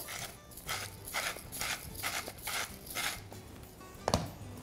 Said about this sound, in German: Und Pfeffer immer schön frisch gemahlen.